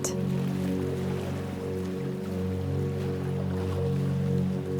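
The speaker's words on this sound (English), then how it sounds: "The sounds of the water reach you only faintly now, dulled by linen and rope." Gentle water lapping at laundry docks above the tide, a soft continuous wash with a low rumbling undertone, steady and unhurried, with no voices over it.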